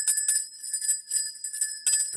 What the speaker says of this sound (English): sleigh bells